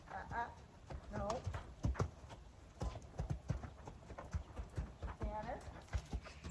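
Hooves of a Tennessee Walking Horse being schooled to canter, a soft irregular thudding of footfalls on the ground beneath ongoing speech from a nearby trainer.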